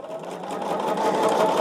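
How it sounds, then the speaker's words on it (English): Sewing machine stitching pairs of quilt blocks together into a row, a steady continuous whirring hum that builds slightly in loudness, close and alone. "I'm going to take 2 sets of 2 and sew them together"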